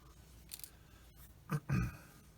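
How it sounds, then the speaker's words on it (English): Cutters trimming plastic parts off the sprues of a Tamiya 1/48 F-51D model kit: a few light snips followed by two crisp close clips, quiet and isolated. "So I'm going to get all these trimmed off."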